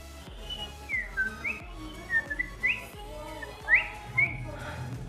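A person whistles a series of short rising and falling chirps, imitating a cricket, over a low background rumble.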